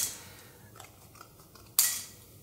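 Scissors snip through a credit card being cut up, a couple of soft clicks followed by one sharp, close cut near the end, with no talking.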